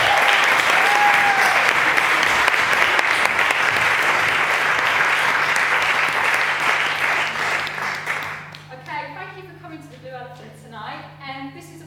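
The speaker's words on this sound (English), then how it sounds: "So if you have a big round of applause for" A theatre audience claps loudly before a touring school play begins, a full, sustained burst of applause for about eight seconds, then it stops and a single voice starts speaking.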